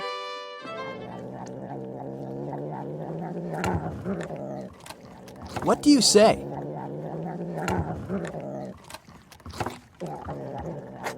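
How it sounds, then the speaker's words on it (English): A low, droning cat purr rumbles steadily with short breaks, and a person briefly speaks over it. "it's the sound of a purring cat."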